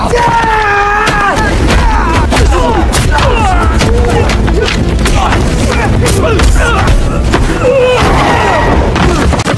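Agents open fire blindly in a dramatic action film scene, with loud, dense bursts of gunshots and heavy thuds layered over a driving score throughout.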